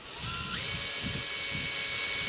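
A power drill spins up and whines continuously as it bores into a boat hull, close and steady, its pitch rising briefly at the start.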